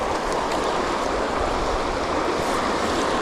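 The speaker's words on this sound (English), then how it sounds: "Just want you to look at this river." A river flows steadily with a continuous broadband rush of moving water, filling the background evenly with no talk.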